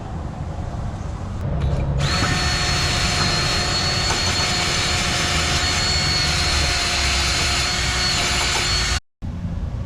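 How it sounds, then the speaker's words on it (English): A metal wire brush scrubs the front brake rotor of a 2015 Ford Fusion, making a loud, continuous, harsh abrasive rasp that holds steady for about nine seconds and then cuts off abruptly. "Now what I'll do is hit this with a metal wire brush"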